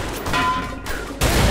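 Gunfire in the video game A Way Out: two short, loud, broadband bursts of shooting with a brief gap between them.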